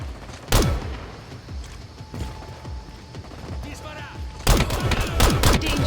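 Gunfire in the video game La Quimera: scattered sharp shots through a steady background, then a dense burst of rapid fire near the end, moderately loud with a voice faintly present.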